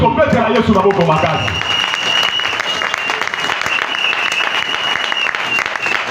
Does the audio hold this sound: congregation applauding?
yes